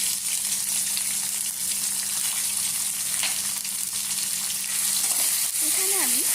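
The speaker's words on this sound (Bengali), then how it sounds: "এর মধ্যে আমি দিয়ে দিচ্ছি আদা রসুনের পেস্ট।" Ginger-garlic paste hitting hot oil already tempered with cinnamon, cloves, cardamom and curry leaves, a loud continuous sizzle with a low hum beneath and a short scrape of stirring near the end.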